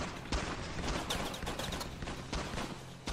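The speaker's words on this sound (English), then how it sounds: "Who's shooting me from over there?" Gunfire in the video game Ravenfield, rapid overlapping shots and bursts crackling at a moderate distance in a dense, continuous battle.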